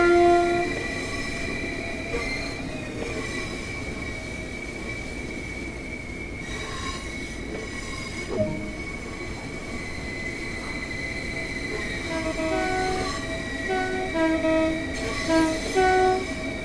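A Southeastern high-speed train in Train Sim World 2 rolls along the rails with a steady rumble, sustained wheel-squeal tones and a brief horn-like note, continuous and fairly close for the whole stretch with no talking.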